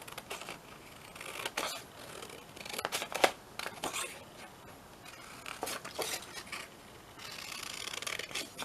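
Scissors cut through paper in a series of close, crisp snips and rustling slices, irregular and fairly quiet, with brief pauses between cuts.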